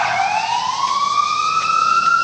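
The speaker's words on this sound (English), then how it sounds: "If these sirens would stop" An emergency siren wails steadily, its tone slowly rising, fairly loud and continuous with no other sounds over it.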